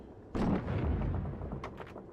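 An SMG fires in the video game Alan Wake's American Nightmare: a sudden loud burst hits hard at the start, trails into a rumbling tail, then a few quicker sharp reports follow.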